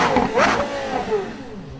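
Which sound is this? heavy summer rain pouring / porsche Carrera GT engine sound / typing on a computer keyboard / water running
porsche Carrera GT engine sound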